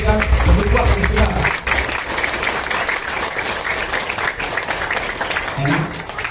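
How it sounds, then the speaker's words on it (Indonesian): A crowd applauds steadily, dense clapping filling the room from start to finish, loud and close. "Tepuk tangan buat kalian semua."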